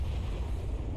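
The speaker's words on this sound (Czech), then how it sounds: "Ten drak tam střílí sám sobě pod nohy prostě." In the ARK video game, a dragon fires at the ground beneath itself, producing a continuous, loud, rumbling roar of explosions with a heavy low-end boom and no pauses.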